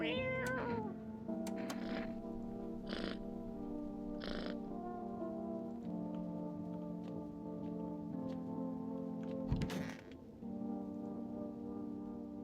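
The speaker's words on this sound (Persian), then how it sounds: "من غذای گربه میخواستم به این گربه‌مون بدم." A cat meows a few times in the video game No I'm Not a Human, short cries standing out over a steady, droning musical background.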